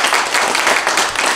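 Dense applause from a meeting audience, many pairs of hands clapping steadily and fairly loudly through the whole stretch with no voices over it.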